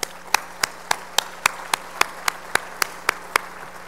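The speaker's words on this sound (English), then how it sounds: "let's applaud for her staff" An audience at a trauma summit applauds softly under one distinct pair of hands clapping in a steady, evenly spaced beat, about four claps per second.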